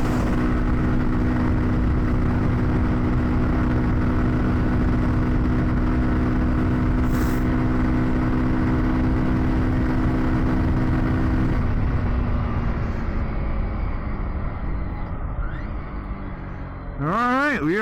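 A Kawasaki Z125 Pro motorcycle engine at full throttle holds a steady, loud mid-pitched drone at about 53 mph under wind rush, then the pitch eases off toward the end. A rider talks over it.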